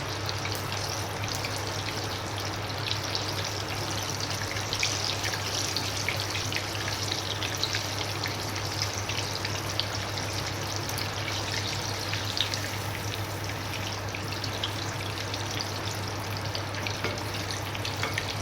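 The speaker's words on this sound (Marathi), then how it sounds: "एक साईड पूर्ण नीट तळून येऊ दे, मग नंतर पलटा" Potato and green pea stuffed kachori fry in hot oil with a steady, even sizzle and fine crackling bubbles, continuous and close, with no talking.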